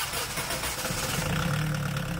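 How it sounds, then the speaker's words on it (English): A boat's diesel engine, running on almost pure diesel purge, cold-starts with a short cranking burst that quickly settles into a steady, close idle rumble. "let's see if the engine will do a cold start on almost pure diesel purge."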